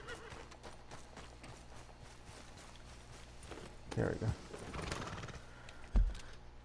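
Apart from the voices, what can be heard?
horse walking and neighing in video game Red Dead Redemption 2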